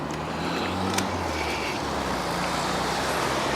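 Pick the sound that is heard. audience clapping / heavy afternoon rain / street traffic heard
street traffic heard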